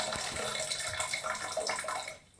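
A shower runs during a nine-day power outage, a steady broadband hiss of falling water that stays loud and even before dropping away near the end.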